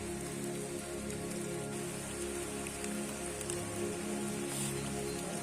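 Steady rain falls on a mountain trail on Gunung Gede Pangrango via the Cibodas route, a dense, even patter close by that continues throughout with no voices.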